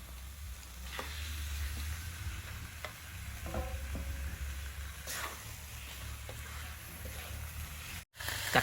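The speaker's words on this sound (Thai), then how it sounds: "เคี่ยวกะทิกับพริกแกงเนี่ยให้แตกมันอีกหนึ่งรอบนะยายจาจากนั้นใส่เนื้อปลาเนาะ ปลาดุกที่เราไปปักเบ็ดกันมานะครับสองตัวใหญ่ๆ" Catfish simmering in coconut cream and curry paste in a pot, stirred with a few soft scrapes over a steady bubbling hiss and low rumble, close and moderately quiet, with no talking.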